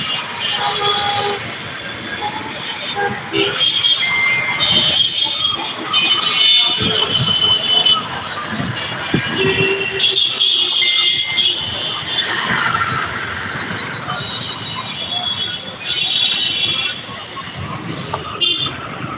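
A train pulls into Kazipara station with continuous loud rumbling and rail noise, sharp squeals, and horn-like tones. Voices talk over the din throughout.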